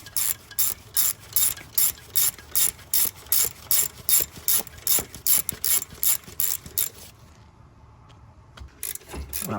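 Ratchet wrench tightening a bolt on a 2007 Toyota Yaris during alternator replacement, loud rapid clicking bursts in a regular rhythm, pausing briefly before resuming.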